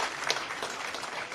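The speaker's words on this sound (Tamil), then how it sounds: "நீங்கள் எல்லோரும் ஒரு பெரிய கைத்தட்ட அண்ணன் ரகுராமன் அவர்களுக்கு இந்த நேரத்தில் கொடுக்க வேண்டும்" A crowd at a public speech event applauds Raguraman, producing a brief, steady wash of many hands clapping at moderate distance.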